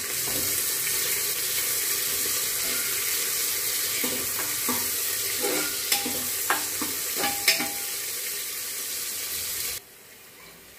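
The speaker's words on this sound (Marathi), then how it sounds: "कांदा पण परतू।" Onion sautés in a pan for Nilanga rice, a loud, steady sizzle with scattered spoon scrapes and clinks that stops abruptly near the end, no one speaking.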